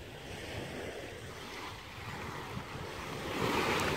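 Ocean waves wash steadily onto a private resort beach at Bai Xep in Quy Nhon, a continuous broadband surf with wind noise on the microphone, swelling slightly louder toward the end, with no voices.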